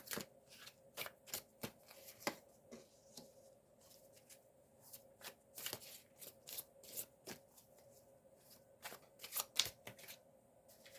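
Tarot cards are shuffled and drawn close up: quick papery riffles and sharp flicks come in irregular bursts, with short pauses between handfuls, crisp and fairly quiet.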